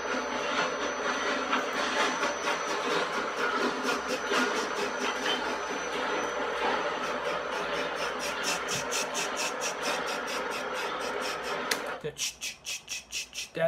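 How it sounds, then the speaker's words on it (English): A train rolls past with a steady roar of wheels on track and rhythmic clicking, ending in a series of evenly spaced clacks as it slows. "the sounds of the train have been used for dozens"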